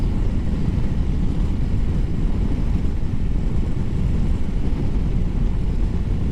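Ural CT sidecar motorcycle cruising at about 59 mph on a chilly 32-degree day, a steady low engine drone blended with heavy wind rush, loud and constant throughout with no talking.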